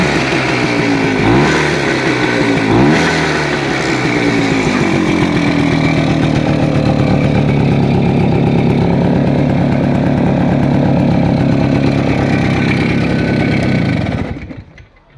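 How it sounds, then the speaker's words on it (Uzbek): A Voskhod motorcycle engine, a Chinese-made one, revs hard and loud at close range: two sharp throttle blips open into a sustained high buzzing roar that cuts off abruptly at the end, with no talking. "gaz berib ko'raman motor"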